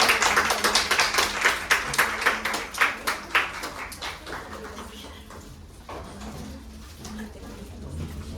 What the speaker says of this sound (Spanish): Vamos a darle un fuerte aplauso al señor Jaime Palacios Chapa